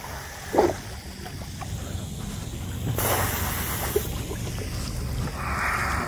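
Small RC mini sniper boat with a propeller running across water, a steady hissing spray and buzzing motor heard from a moderate distance, swelling louder midway with no one talking.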